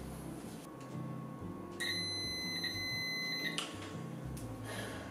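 A multimeter sounds a continuity beep across a fuse during a Commodore 64 repair: one sustained electronic tone lasting under two seconds, quiet, over faint background hum.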